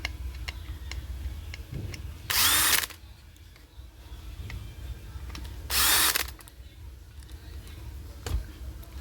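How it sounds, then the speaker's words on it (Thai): Power drill boring into a plastic truck light housing, two loud steady bursts of about half a second each, separated by quieter workshop handling and clicks, with no speech. "เจาะตัวนี้ก่อนนะครับ"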